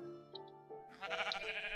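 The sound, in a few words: sheep bleating in the video game Minecraft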